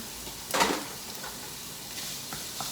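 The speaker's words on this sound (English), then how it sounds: "I got a nice sizzle in it already." Steady, close sizzling of ground chicken frying in hot oil, with a brief louder burst and a few light stirring scrapes.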